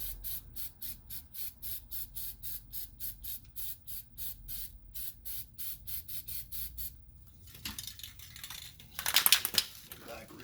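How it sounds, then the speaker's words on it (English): A can of Rust-Oleum high heat spray paint hisses in a short, loud burst near the end, after a long run of rapid rhythmic clicking, during front strut and coil spring work on a Chrysler Town & Country minivan. "paint real fast with some nice high heat Rust-Oleum paint"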